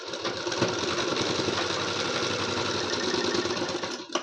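A sewing machine runs continuously up close, stitching seams on a blouse with a fast, even mechanical whir and knock that stops abruptly at the end.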